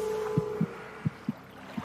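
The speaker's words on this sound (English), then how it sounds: "Her heart pounding in her chest, Harriet stood" A pounding heartbeat thumps five times in a slow, uneven rhythm, low and close, over a faint steady hum.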